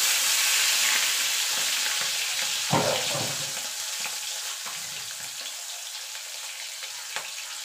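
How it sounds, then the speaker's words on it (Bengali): Prawns dropped into hot oil set off a steady, close frying sizzle, with a brief louder burst of crackling as they hit the pan, then settling into an even hiss. "যে চিংড়ি মাছ যে কটা রেখেছিলাম সে কটা দিয়ে দেবো তেলে।"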